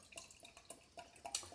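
Apple honey cherry mead is poured into a glass, heard as faint, irregular drips and light splashes, soft and close with no talking.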